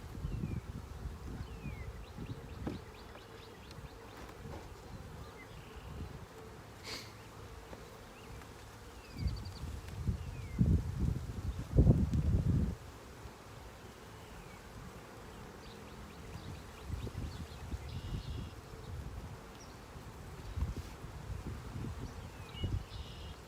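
Honey bees buzz around an open beehive frame full of nectar and honey, a dense continuous hum with individual bees passing close, plus occasional rustling and handling noises.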